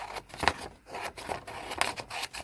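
Scissors cut through glossy magazine paper for a collage, with a handful of quiet, close snips and rustles spaced irregularly over a soft background.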